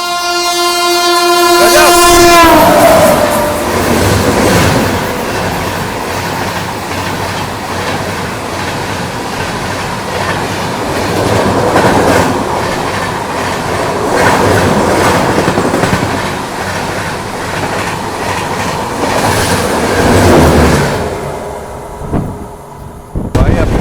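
An Indian Railways express hauled by a WDP4B diesel locomotive passes at a crossing on a single-line route, opening with a loud horn blast and then a long, steady rumble and clatter of wagons rolling by close up.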